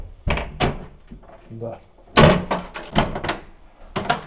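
A key turns in the lock of a front door, which then opens with metallic clicks, jangles and heavy thunks. A person speaks briefly among the sounds.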